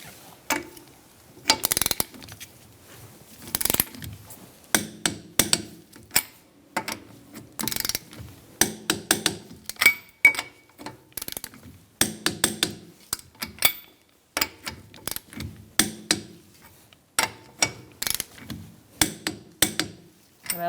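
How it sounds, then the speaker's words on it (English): A torque wrench tightening a Honda CR-V wheel to 80 foot-pounds, heard as many close, sharp ratcheting clicks in short bursts with quiet gaps between them. "we're going to torque our wheel to 80 foot-pounds"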